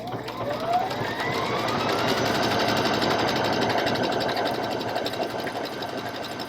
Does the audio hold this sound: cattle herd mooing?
no